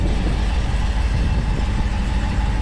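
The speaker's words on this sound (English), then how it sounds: "car's pretty loud, just with headers and no cats" A Chevrolet Camaro ZL1 with headers and no catalytic converters idles loudly and close by, its steady, rumbling exhaust holding an even drone with no talk over it.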